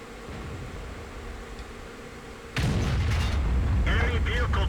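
Heavy artillery fire from a World of Tanks game comes in as a sudden loud, rumbling blast partway through, after a steady low drone, with rolling booms and crackle continuing to the end and a voice talking over it.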